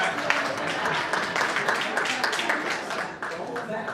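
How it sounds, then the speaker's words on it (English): An audience breaks into steady, dense clapping that fills the room for several seconds, with a brief dip near the end before it carries on. "Somebody wanted to clap."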